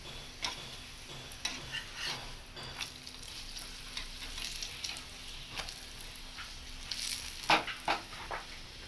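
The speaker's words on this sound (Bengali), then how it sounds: "এবার তেল দিয়ে লাল লাল করে পরোটাগুলো ভেজে তুলে নেব" Parathas frying in oil in a pan make a steady, soft sizzle with scattered small pops and ticks, a louder crackle burst near the end, and no talking.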